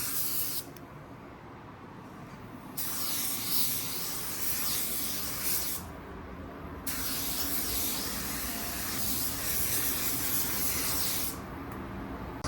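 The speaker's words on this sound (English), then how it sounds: "And we do the same thing with our fender, obviously. Throw another half coat on it." A spray gun lays a half coat of paint on a car fender with loud, close hissing bursts, long stretches of steady spray broken by short pauses as the trigger is released.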